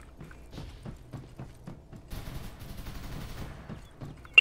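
Rapid AK rifle bursts in the video game Farlight 84, a string of evenly spaced shots followed by a denser, noisier stretch of sustained fire and a sharp final crack, moderately loud with no talk.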